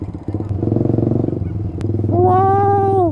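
Many motorcycles crowding a road near an event, engines idling and chugging close by, then one revving up sharply with a rising, sustained whine.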